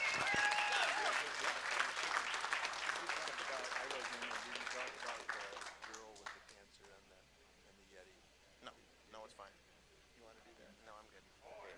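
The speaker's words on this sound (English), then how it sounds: "how about a round of applause for Grant here?" A crowd claps at a student auction held by an auctioneering college, loud at first and then thinning out into scattered claps while a voice speaks over the fading applause.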